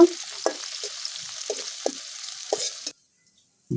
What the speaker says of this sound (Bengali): মরিচটা আমি ভেজে নেব।